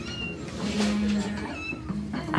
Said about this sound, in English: I'm hearing a kitty cat meowing.